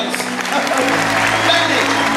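An audience gives a round of applause for students at a live stage show, steady crowd clapping rising slightly and holding throughout, with some voices mixed in.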